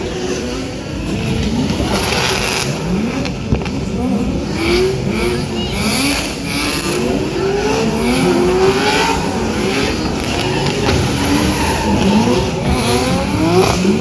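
Four drift cars perform synchronised circle work at a MotorEx drift show, engines revving hard and rising and falling continuously with tyre squeal, loud and sustained across the whole stretch, with faint crowd and commentary beneath.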